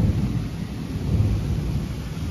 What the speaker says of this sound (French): C'est un très très gros orage.